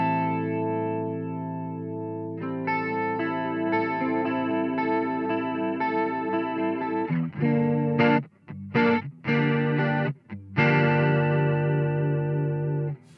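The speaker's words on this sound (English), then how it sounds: "I'm not a massive fan of the fast sound on the rotary." Guitar played through a Danelectro Billionaire Big Spender rotary speaker pedal on its fast setting, sustained chords warbling with quick spinning modulation, then choppy stop-start strums with brief gaps, loud and alone.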